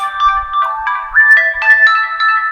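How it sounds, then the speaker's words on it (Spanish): A telephone rings loudly and close by, with a warbling electronic melody of rising and shifting tones that plays continuously, heard in the middle of a live philosophy-of-law lecture. "Este teléfono sonando, señor."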